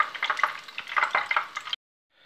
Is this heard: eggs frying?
yes